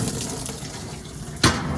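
Water running steadily into a GE washing machine as it fills for a laundry load, a continuous close rush with a brief louder splash near the end.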